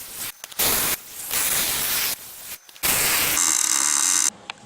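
Welding a plate onto a vehicle differential, a loud harsh crackling hiss in several bursts of about a second each, separated by short pauses, with no talking.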